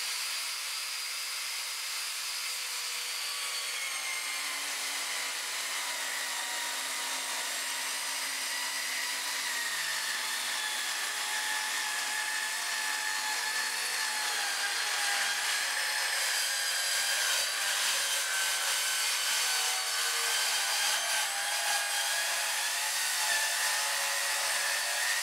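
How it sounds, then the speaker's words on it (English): Evolution Rage twin blade saw, a 155mm multipurpose saw, cutting through 6mm aluminium checker plate, giving a steady loud high-pitched whine and grinding roar that holds for the whole cut with no talking. "It can be difficult cutting aluminium at home, so we're going to cut this piece of 6mm checker plate."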